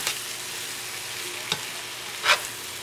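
Vegetables for crab and mushroom bisque being stirred in a roux, a soft continuous sizzle broken by a couple of brief spoon scrapes against the pot, no talking.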